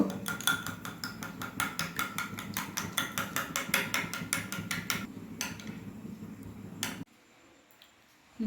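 Eggs seasoned with salt and pepper are beaten briskly in a bowl: a fast, steady run of close, sharp clinks for about seven seconds, then they stop, leaving near-silence.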